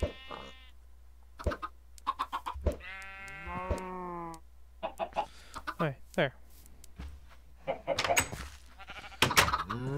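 Flocks of chickens in the video game Minecraft give short, scattered clucks and chirpy cries, some rising and falling, at a moderate level over a quiet background.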